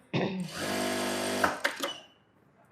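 A sewing machine stitches a blouse, a sustained close mechanical whir lasting about a second and a half, followed by a few sharp clicks and knocks as it stops.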